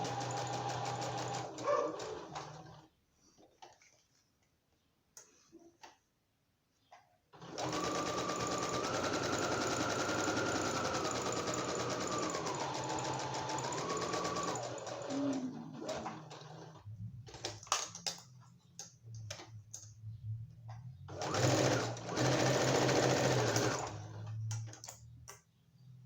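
A sewing machine stitches a notebook cover in long, steady runs of rapid mechanical whirring, stopping and restarting between bursts with quiet handling pauses in between.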